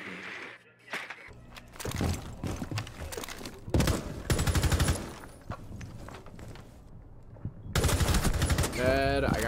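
Rapid bursts of gunfire with wall-penetrating shots in a ranked tactical shooter game, loud clattering volleys around footsteps and game effects, a couple of intense sustained stretches near the start and end.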